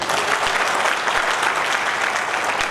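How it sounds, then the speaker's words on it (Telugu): A crowd at a Lions Club anniversary celebration in Nizamabad breaks into dense, loud applause, a continuous wash of clapping with no voices over it. "కాబట్టి గ్రాండ్గా క్లాప్స్ కొట్టండి"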